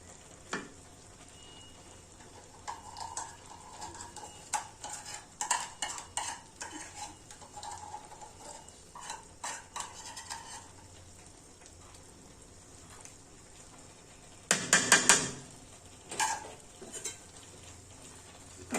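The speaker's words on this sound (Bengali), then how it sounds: "আমি নাড়া দিয়ে দিব তলানিতে লেগে আসছে" A spoon scrapes and stirs vegetable khichuri with ghee in a pot, making repeated close scraping strokes over a soft sizzle, with a louder clatter of utensil against the pot near the end.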